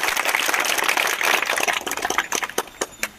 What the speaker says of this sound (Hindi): 78 के लिए जोर से ताली।